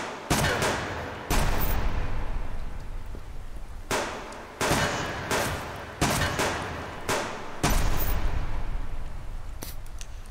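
Gunfire in the survival game Subsistence: several loud, sharp shots and short bursts, some spaced and some clustered, each ending in a decaying tail, with game ambience between them.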